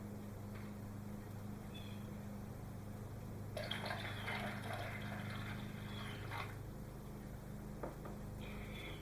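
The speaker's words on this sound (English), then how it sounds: "And now you want to add more water" Water is poured into a cooking mixture in a home kitchen, a faint splashing pour lasting a few seconds against a quiet, humming room.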